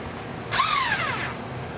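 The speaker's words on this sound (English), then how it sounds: "Remove the impeller bolt." A power tool, likely an impact driver, runs in one short burst lasting under a second while removing the impeller bolt from a Taco FI pump, with a rising then falling whine and nobody speaking.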